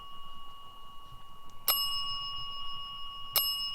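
A bell rings sharply twice, about two seconds apart, each strike leaving a bright lingering tone over a faint hum in a quiet room.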